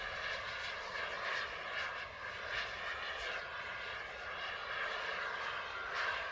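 An airplane drones steadily through the air with a constant propeller-engine hum, close and even in loudness, with no talking.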